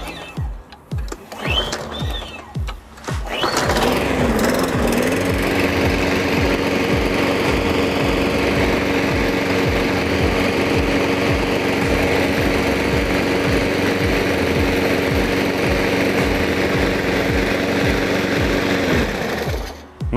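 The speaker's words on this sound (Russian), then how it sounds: "для того, чтобы запустить данный двигатель, мне потребовалось всего лишь 3 движения стартером" A RedVerg RD-GL51SB self-propelled petrol lawn mower engine starts after three starter pulls, then runs steadily and loudly at a constant idle, close by, with no talking.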